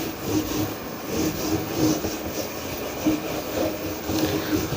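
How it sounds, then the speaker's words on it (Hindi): Erasing writing on a classroom board during a maths lesson, a steady rubbing sound in repeated strokes, close and fairly loud, with no talking. "रब कर देता हूँ।"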